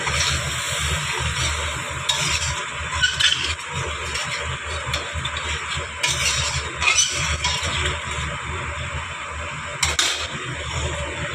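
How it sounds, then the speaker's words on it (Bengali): Potatoes are stirred through a spiced curry gravy in a pan, giving a steady wet bubbling hiss broken by repeated scraping strokes of the spoon. "আলুটা দিয়ে নাড়াচাড়া করে নিলাম।"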